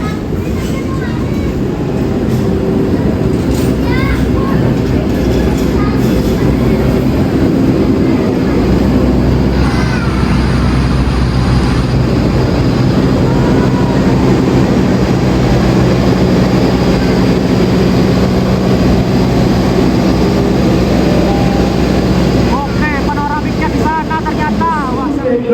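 A panoramic passenger train arriving at a station rumbles steadily nearby with a continuous low roar and mechanical hum, voices faintly audible under the noise throughout.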